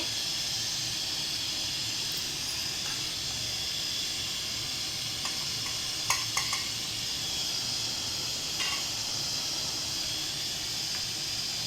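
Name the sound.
water boiling in a pot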